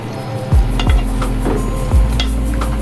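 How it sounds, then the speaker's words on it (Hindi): Blended tomatoes being stirred into minced keema in a karahi: a few firm scraping strokes and clinks of a spoon against the pan over a steady close sizzle, with no talk. "अब मैं इसे मिक्स करूँगी"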